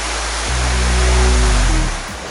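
Kelwali waterfall roaring as a dense, steady broadband rush of falling water, loud and close, with a low tonal hum swelling in the middle of the clip.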